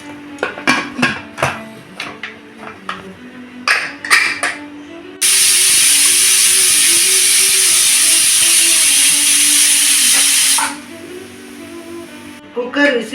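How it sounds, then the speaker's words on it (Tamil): A pressure cooker cooking broccoli and potato soup lets out a loud continuous steam hiss for about five seconds, framed by sharp clicks and knocks before and after. "குக்கர் விசில் வந்துருச்சு"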